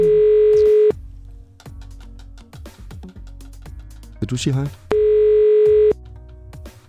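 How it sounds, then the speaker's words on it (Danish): A telephone ringback tone plays while a call is placed from a lakeside pier in Nakskov, two long steady beeps separated by a pause, with people talking quietly in between. "Vi prøver at ringe nu."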